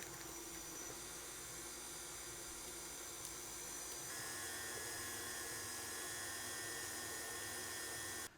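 An electric stand mixer beats cheesecake batter with eggs at medium speed, giving a steady high motor whine and whirring hum that runs without a break at a fairly low level.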